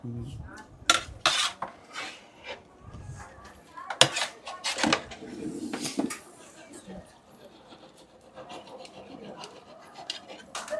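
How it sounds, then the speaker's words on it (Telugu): Mutton pieces are mixed with masala in a metal cooking pot at a village fair kitchen in Punganur. Irregular loud clanks and scraping bursts alternate with quieter stretches, with indistinct voices in the background. "మా తమ్ముడు ఆ మసాలాల్ని ముక్కలకి పట్టించేదానికి బాగా మిక్స్ చేస్తున్నాడు."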